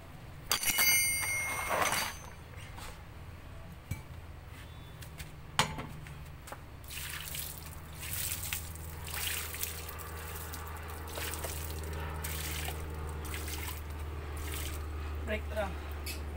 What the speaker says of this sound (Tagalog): Sabuhin mo lang ng tubig yan.